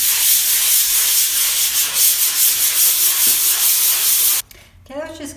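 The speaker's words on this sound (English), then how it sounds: "I give it a good sanding before I start" A sanding block rubs briskly over a panel being prepared for oil painting priming, a steady, loud, hissy scratching that stops abruptly near the end, followed by brief faint talk.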